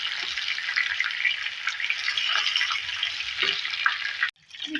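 Fish sizzling in shallow oil in a pan for a Karachi-style fish fry, a steady loud crackling hiss throughout, briefly cutting out near the end before resuming.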